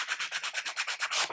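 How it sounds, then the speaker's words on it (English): Sandpaper is rubbed in quick, even back-and-forth strokes over a diorama piece, a close, bright scratchy rasp repeating about a dozen times in just over a second. "I'm going to run a little bit of sandpaper on there."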